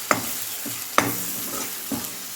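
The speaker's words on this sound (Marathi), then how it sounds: "मसाला पण दोन तीन मिनिट कमी याच्यावरच भाजून घ्यायचा आहे म्हणजे छान भाजला जातो" Masala spice paste for egg curry fries in a pan with a steady close sizzle, broken by a few sharp scraping stirs of the spoon.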